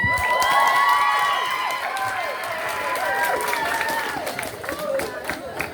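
Applause from a crowd at a campus student election event, with cheering and whistles over steady, dense clapping that carries on loudly the whole time.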